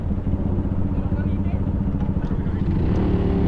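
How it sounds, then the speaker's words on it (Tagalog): A 2025 SYM ADX TG 400, a 400cc adventure scooter, hums steadily nearby as its rear wheel spins fast, with someone talking over the low engine drone. "ang bilis ng ikot ng gulong niya sa likod"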